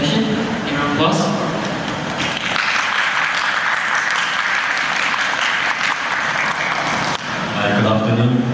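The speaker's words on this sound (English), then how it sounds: "A round of applause." Sustained audience applause fills a hall as a speaker named Michael is welcomed to a sharing session, steady and dense for several seconds with brief voices at the start and end.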